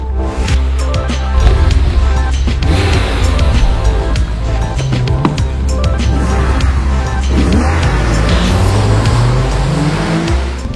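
A Porsche 911 997 Carrera S with its 3.8-litre 350-horsepower flat-six pulls hard and loud, the engine note rising and falling through revs as the car drives, close and dominant.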